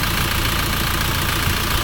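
A Land Rover Discovery 300Tdi diesel engine idles continuously, steady and rumbling, with a low knocking throb and broadband mechanical noise throughout, fairly close and loud.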